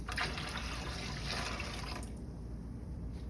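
A liter of water pours into a bucket as part of a coolant mixture, a steady close splashing fill that stops shortly before the end, with no talk over it.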